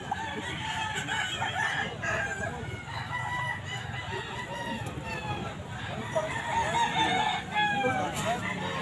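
Several roosters crow and hens cluck nearby, calls overlapping continuously amid a busy outdoor pet market in San Jose del Monte, Bulacan, with faint voices in the background.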